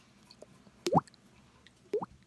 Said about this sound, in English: I am wetting the bristles right now because I'm just going to wet my whiskers and sling water droplets all over the mirror